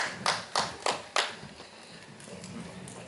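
Four sharp, evenly spaced claps from an audience at a crypto coin seminar, a short spirited burst that stops, followed by faint room noise.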